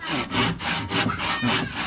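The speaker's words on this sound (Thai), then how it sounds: "กำลังเลื่อยใช่ไหม" A saw cuts back and forth through thick wood in a remote village, with steady rasping strokes about every third of a second, close and continuous with no voices.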